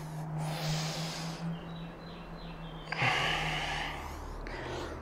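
Slow, deliberate breaths in and out during a yoga exercise for back and neck pain, audible as two long airy breathy swells, close and fairly soft, with no talking over them.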